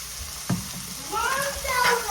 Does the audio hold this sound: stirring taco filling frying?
yes